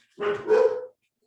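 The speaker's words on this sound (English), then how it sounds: "Sorry about the dogs." A single close dog bark, a short double-pulsed woof with no other sound around it.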